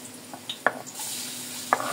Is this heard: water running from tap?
no